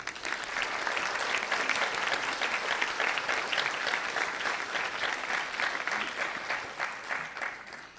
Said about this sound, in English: I would like us all to give a round of applause to the students for successfully making it to this wonderful milestone